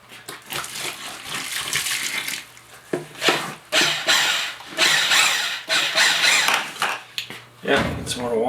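Water runs into a bucket for mixing drywall mud, splashing in uneven surges with clanks and knocks of handling mixed in, close and fairly loud.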